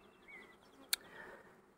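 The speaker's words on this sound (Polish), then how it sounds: "dużo pszczoły" Honeybees buzz faintly at an open beehive during inspection, a soft steady hum with one sharp brief click in the middle, no voices.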